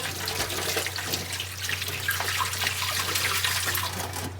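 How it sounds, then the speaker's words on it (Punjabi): A clay pot rinsed under running water, a continuous close gush and splash from a flowing stream, steady throughout with no voices. "ਐਨ ਖੁੱਲੇ ਪਾਣੀ ਦੇ ਨਾਲ ਆਪਾਂ ਨੇ ਨਾ ਇੱਕ ਵਾਰ ਇਹਨੂੰ ਹੋਰ ਧੋ ਲੈਣਾ"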